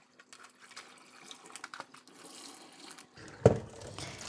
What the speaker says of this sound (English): And throw the water.